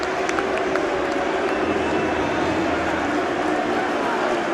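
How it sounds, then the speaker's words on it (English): A steady roar from a football crowd at Portman Road, Ipswich, during a Championship match between Ipswich Town and Norwich City, sustained and fairly loud throughout with a faint ripple of clapping. "Crowd right behind them."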